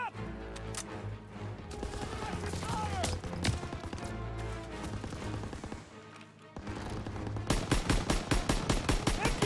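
Machine gun fire chatters through a Call of Duty WWII battle on Hill 493, rapid bursts over orchestral score that build into dense, loud repeated shots toward the end, with soldiers shouting faintly in the mix.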